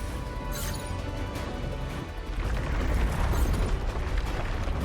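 Rumbling blasts and crashing debris surround a player running up rocks in the video game Wuthering Waves, a steady loud roar that swells midway through.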